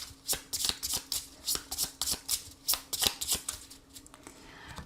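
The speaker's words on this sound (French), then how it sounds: "je vais faire un tirage en 15 cartes pour voir les énergies qui ressortent" Lenormand cards shuffled by hand for a fortune-telling spread, a close, quiet run of crisp riffling flutters coming in quick regular bursts, with no voices.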